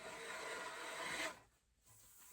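A hand plane shaves thin curls off a wood edge in one smooth, close, quiet rasping stroke lasting just over a second, followed by a brief hush.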